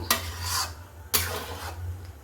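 A spatula scrapes and stirs through food in a cooking pot on the stove, with two distinct sweeping strokes about a second apart and a low background hum, no talking.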